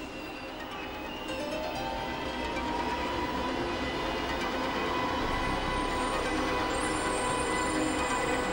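A DB class 101 electric locomotive hauls an intercity train on the Nuremberg–Ingolstadt high-speed line, a steady loud rushing roar of wheels and motors that builds after the first second and holds evenly, with no voices.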